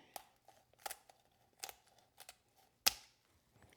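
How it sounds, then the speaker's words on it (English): Kitchen shears snipping through a raw chicken's backbone, a handful of crisp, close crunching cuts spaced unevenly, the last one loudest, against near silence. "So just cut down along both sides of the backbone."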